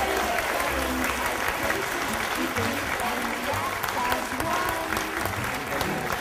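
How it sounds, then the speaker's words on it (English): An audience at a bingo show applauds a winner with steady, dense clapping that stays at an even level throughout, with a few voices mixed into the crowd noise. "Round of applause one more time for Peter, a winner."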